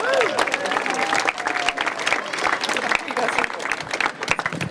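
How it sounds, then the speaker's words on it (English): Applause from an outdoor crowd at the groundbreaking for a new K-8 school in East Village, dense clapping with cheers and voices mixed in, fading slightly toward the end. "would you give her a round of applause?"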